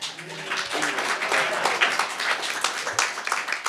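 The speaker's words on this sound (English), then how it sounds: "How about a little round of applause for that guy?" Applause from a live audience at a 1950s comics love-story performance, a continuous dense crackle of many hands clapping at close range, steady and fairly loud throughout.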